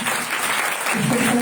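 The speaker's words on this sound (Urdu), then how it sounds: "میں چاہتی ہوں ایک دفعہ زوردار تالیاں" A church congregation at a sermon bursts into loud, dense applause, many hands clapping together in a sustained wash that swells stronger toward the end, with voices mixed in.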